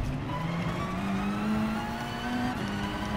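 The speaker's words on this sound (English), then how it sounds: "The engine's still pretty loud" A race car engine in Gran Turismo Sport holds a steady, droning note that slowly rises in pitch as it accelerates, loud and continuous.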